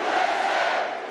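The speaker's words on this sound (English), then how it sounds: "Donald Trump speaking to a crowd of supporters at a campaign rally in Georgia on Saturday" A crowd of supporters at a Donald Trump campaign rally in Georgia lets out a dense, loud roar of cheering. The burst is short and steady.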